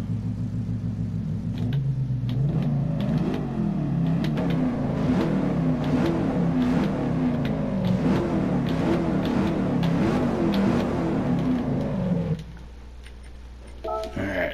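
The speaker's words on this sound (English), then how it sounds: "These muscle cars sound so cool" A deep, rumbling Ford Mustang Mach 1 engine in Gran Turismo idles, then revs hard in repeated bursts before settling back to a low idle, loud and close.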